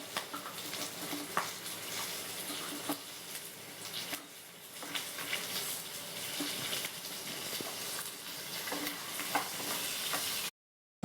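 Garlic frying in a pan for garlic chutney, a continuous soft sizzle with occasional stirring scrapes, steady and moderately quiet throughout.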